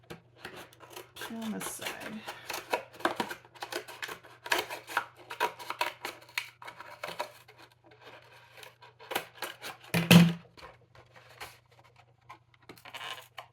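Scissors cut paper for a mini book spine, with quick, crisp snips and rustles in irregular bursts, close up, while a person talks quietly.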